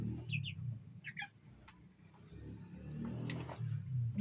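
Twenty-day-old broiler chickens in a backyard flock cluck in short, close bursts, a few spaced calls over a low background murmur.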